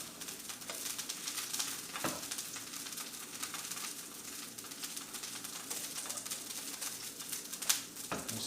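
Tuna fillets sizzle and fry in a hot pan with a citrus soy glaze. The crackle is dense and steady, with a few sharper pops, and no voices are heard.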